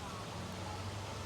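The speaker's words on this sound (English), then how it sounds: "You probably hear the creek." Steady, faint broadband rushing of flowing water, continuous and even throughout with no voices, like a creek running nearby.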